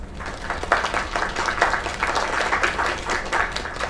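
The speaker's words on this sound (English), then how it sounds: "Another round of applause." Crowd applause in the video game The Lake, a steady wash of many hands clapping for a few seconds, moderately loud and heard on its own without speech.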